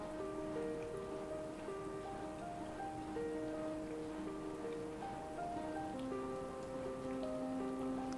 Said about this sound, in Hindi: गैस में थोड़ी सी और तेज़ कर देती हूँ और मैं इसे 2-3 मिनट डीप फ्राई ऐसे ही होने दूँगी